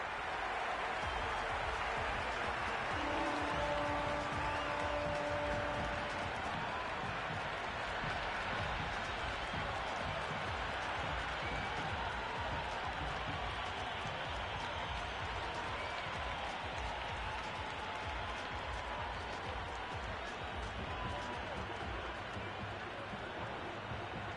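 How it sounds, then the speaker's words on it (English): Crowd at a T20 cricket warm-up match between India and South Africa in a Mumbai stadium, cheering and applauding as a steady, dense roar that stays constant and fairly faint throughout. "Listen to that crowd. They are loving this."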